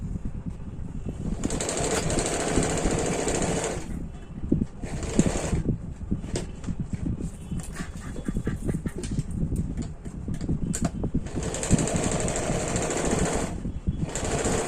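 A sewing machine double-stitches darts on a kurti in quick bursts, a loud buzzing whir starting and stopping several times, with softer handling clatter in the pauses.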